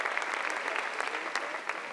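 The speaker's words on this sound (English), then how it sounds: "give him a huge round of applause" A crowd applauds at a 2010 Worlds VIP ceremony: dense, steady clapping that stays loud and even throughout.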